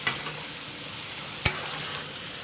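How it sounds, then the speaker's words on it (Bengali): Potatoes fry in oil over a high gas flame, giving a steady close hiss broken by two sharp clinks of a utensil against the pan. "একটু গ্যাসটার হাই ফ্লেমটা বাড়িয়ে আলুগুলোকে ভালো করে ভেজে নেব"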